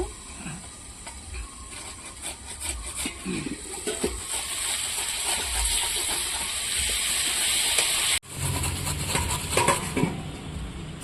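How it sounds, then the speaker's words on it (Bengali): Radish being shredded for fritters, a steady, close rasping scrape that runs almost continuously, with a brief break near the end before it resumes. "তাহলে মুলোর বড়া করার জন্য মুলোটা আমি এই দেখুন এটা দিয়ে কুচিয়ে নেব"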